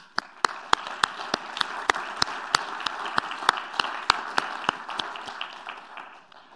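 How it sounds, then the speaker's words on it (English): Sparse clapping from a conference audience after a closing talk, a steady series of distinct, fairly sharp claps at a regular rhythm over a soft room murmur, fading near the end. "we thank them and we applaud them"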